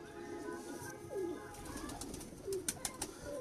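Home-bred pigeons from the Mian Nazeer bloodline coo softly nearby in two short, low rolling calls, with a murmur of background sound throughout.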